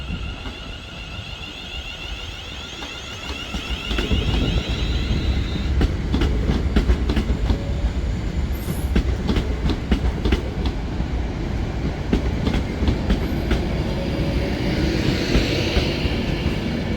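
An Avanti West Coast Pendolino train passes at Crewe station, a steady rumbling roar with rhythmic clickety-clack of wheels over rail joints building after a few seconds and continuing loud and close throughout.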